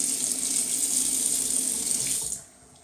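Tap water runs steadily into a sink as a razor is rinsed during a shave, a close, continuous hiss that stops abruptly near the end, with no talking.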